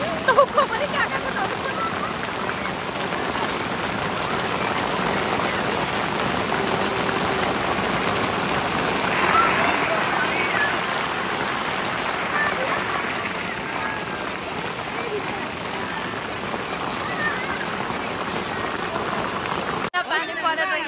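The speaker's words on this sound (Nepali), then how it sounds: "असिना हेर्नुहोस् न ग्राउन्डमा असिना यस्तो डरलाग्दो आइरहेछ" Hail pelts down steadily on a cricket ground during a stopped match near Darjeeling, a dense continuous rattling patter like heavy rain that runs throughout, with people talking faintly underneath.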